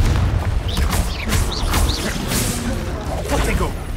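In the video game Hogwarts Legacy, a Confringo blast spell erupts in repeated booming bursts mixed with whooshing, swooping tones and crashing impacts, loud and chaotic throughout, with voice-like game sounds in the mix.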